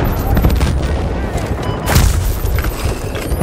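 Bursts of rapid gunfire crackle loudly over a dense, noisy background, with heavy booming shots, in the shooting game Battlefield: Bad Company 2.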